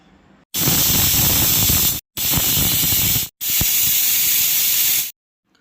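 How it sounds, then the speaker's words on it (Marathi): A pressure cooker cooking moringa soup vents steam in three loud, sustained hissing bursts, each a second or more long, separated by brief silences. "आता आपण झाकण लावून याच्या तीन शिट्ट्या करून घेऊया"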